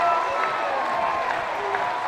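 Baseball stadium crowd in a steady roar of cheering and applause after a game-winning moment, a dense wash of clapping and shouting sustained throughout.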